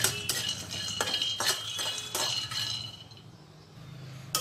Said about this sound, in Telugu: పల్లీలని వేయించుకుందాము